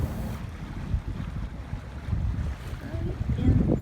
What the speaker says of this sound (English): we decided to take the dinghy out for a dinghy ride